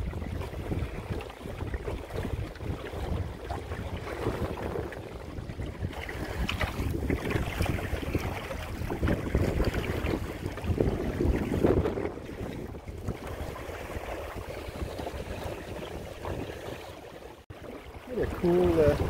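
A sail and oar Pooduck skiff running downwind on a lake, with steady broadband wind rush and water wash along the hull continuing throughout, punctuated by occasional gusty buffets against the microphone.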